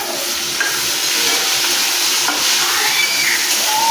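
Tomatoes added to onions already fried deep red in a pan, for a fish curry with taro, give a steady, close sizzle and hiss that runs unbroken throughout, with faint stirring scrapes.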